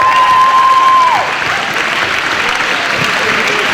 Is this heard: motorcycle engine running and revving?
no